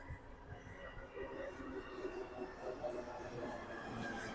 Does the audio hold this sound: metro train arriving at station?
yes